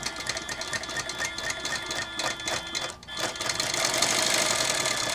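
A Tin Lizzie sewing machine stitching at an adjustable stitch length, a fast steady mechanical whir with rapid needle clatter, briefly dipping near the middle before running louder and denser.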